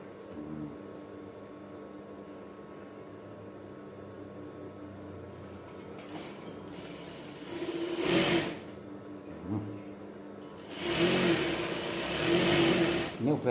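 A sewing machine stitches a short-sleeved batik shirt in brief, close bursts of rapid whirring, with a low hum and a voice talking in the background.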